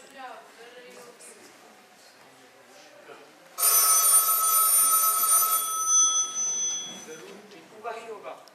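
A telephone rings loudly on stage during a school children's theatre festival play, a sustained electronic ring lasting a couple of seconds between spoken lines, with actors' voices before and after it.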